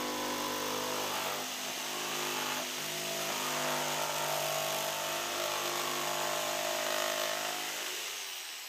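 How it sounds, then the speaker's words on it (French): A jigsaw buzzes steadily through a hardboard sheet, a continuous whining cut with slight rises in loudness, close by and without speech. "Et vous le passez à la scie sauteuse en vous assurant de bien suivre la forme."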